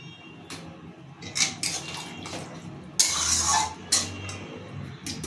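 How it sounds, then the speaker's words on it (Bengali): Water is poured into a pan of simmering soybean curry on the stove, giving a few short splashing and sizzling bursts with small clinks of cookware in a quiet kitchen. "জল দেবো, টেনে যাবে"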